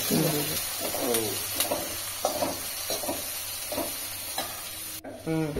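Onion, cumin and curry leaves frying in a pan, a continuous close sizzle and hiss with repeated scraping stirs, ending in a sharp clatter.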